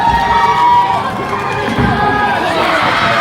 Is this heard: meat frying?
no